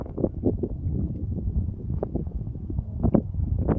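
Gusty wind of about 20 mph buffets the microphone, a continuous low rumble with irregular louder blasts, no voices.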